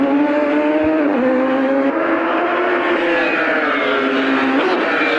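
A race car runs a steady lap of a circuit with a hairpin and a long back straight, its engine droning loud and continuous, pitch easing and rising through the corners.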